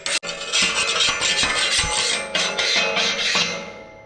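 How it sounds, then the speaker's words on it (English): The plasma-cut edge of a steel plate is rubbed to strip off its burrs. After a sharp knock, a run of close, loud, gritty rasping strokes follows. "just rub it on the actual edge and it takes all the burrs off"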